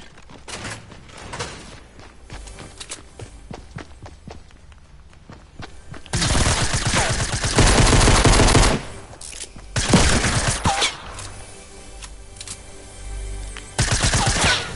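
Weapon fire in Fortnite Battle Royale: scattered single shots early on, then loud sustained automatic bursts in several clusters, close and punchy, with thuds and footsteps between them.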